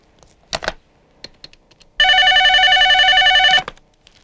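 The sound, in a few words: telephone ringing or dialing for a call home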